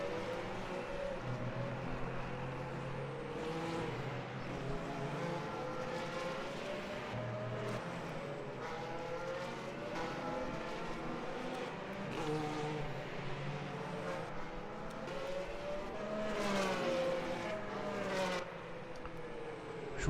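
Race car engine in the Le Mans Ultimate sim racing game, a steady loud drone with rising and falling revs and gear changes throughout, alone without talk.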